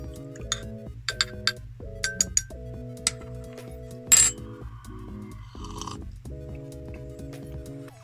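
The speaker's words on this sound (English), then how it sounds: "Give it a stir around. Swirl it up." A spoon stirs sweetener into a cup of flavoured tea, making a quick run of bright clinks against the cup, then a few sparse taps, over steady background music.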